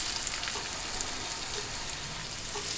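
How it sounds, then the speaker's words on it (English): Panko-coated chicken pieces fry in hot bacon grease in a skillet, making a continuous bright, crackling sizzle with no talking. "we're gonna just start putting them down into the bacon grease"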